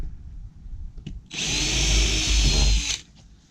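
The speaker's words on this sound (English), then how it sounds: "so that I can pre-drill my holes" A power drill whines loudly for about two seconds, close by, pre-drilling holes in siding, framed by quieter handling noises before and after.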